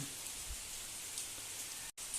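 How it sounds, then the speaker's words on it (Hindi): Heavy rain falling steadily in a village, a dense, even hiss without pause apart from one very brief dropout, with no voices present. "आप लोग देख सकते हैं काफ़ी तेज़ बारिश हो रही है"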